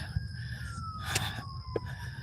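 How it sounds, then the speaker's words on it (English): A distant siren wails faintly in the background, its steady tone sliding slowly downward over outdoor ambience, with a couple of brief knocks. "Hear the sirens in the back"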